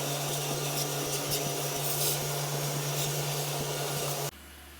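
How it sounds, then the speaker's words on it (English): A vacuum cleaner runs with a steady loud hum and rushing airflow, then cuts off abruptly near the end, leaving quiet. "I don't have much vacuuming to do here"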